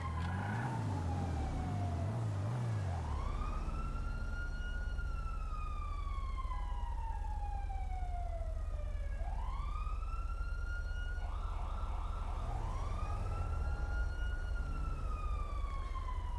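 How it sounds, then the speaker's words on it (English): Police sirens in the Redline RP video game wail in long rising and falling sweeps, starting faint and growing louder as they close in, over a steady low rumble with no talking. "Oh, I hear sirens."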